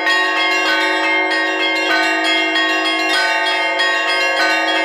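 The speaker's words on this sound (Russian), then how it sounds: "колокольный звон" Festive church bells peal at noon on the Day of the Baptism of Rus after a liturgy: a loud, rich, continuous ringing with repeated strikes layering over a sustained resonant hum, heard alone.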